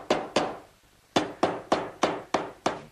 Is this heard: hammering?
yes